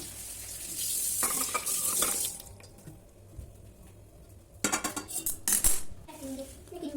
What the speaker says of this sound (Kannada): ಈಗ ತುಂಡುಗಳೆಲ್ಲ ಚೆನ್ನಾಗಿ ಬೆಂದಿದೆ ಈಗ ನಾನು ಬೇರೆ ಪಾತ್ರೆಗೆ ಹಾಕ್ತಾ ಇದ್ದೇನೆ